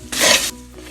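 Coriander powder heats in a pan on a low flame, heard as a short, bright burst of scraping and hiss lasting under half a second, then a quieter tail.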